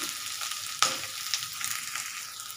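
Shrimp frying in a pan with onion, ginger and garlic for a banana blossom dish: a continuous close hiss with a sharp clack of a utensil near the start and light stirring sounds, no voices.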